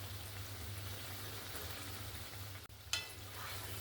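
Palm fruit fritters (taler bora) fry in oil, giving a steady soft sizzle and crackle throughout with a brief dip and a sharp splash near the end, with no talking.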